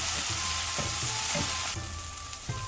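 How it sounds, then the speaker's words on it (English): Spring onions sautéing with salt in a pan, a steady loud sizzle under repeated rhythmic stirring strokes, roughly one every half second, close by and with no talking. "stir it nicely until it is finely sauteed."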